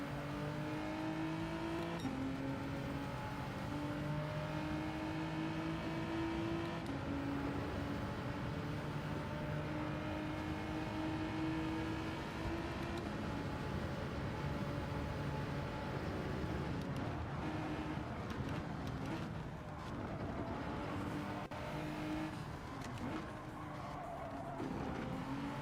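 A Ferrari race car in Gran Turismo 7 holds a loud, continuous engine wail, its pitch climbing and dropping through gear changes, with tire squeal and rumble near the end and no voices.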